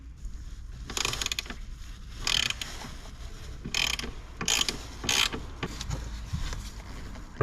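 A ratchet turns a Torx 30 bit while loosening fasteners on the wiper linkage of a BMW X5, giving bursts of quick metallic clicking that come and go over steady close-up background noise.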